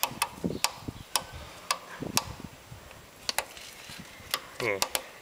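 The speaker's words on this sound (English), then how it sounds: "There we go, it's ratcheting now." Sharp, regular clicks of a lawnmower wheel's one-way ratcheting gear, evenly spaced like a clock ticking, close and fairly quiet, with a few low thumps and brief speech sounds between.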